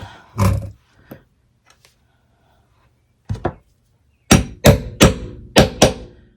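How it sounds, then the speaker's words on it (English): Sharp hammer strikes on wood, a few scattered blows, then a quick rhythmic run of five loud hits close by. "Hammer it down."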